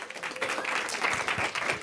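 An audience applauds to welcome the PaperMap AI team at an AI gathering at Google in New York City, a steady, moderately distant wash of clapping that holds for about two seconds.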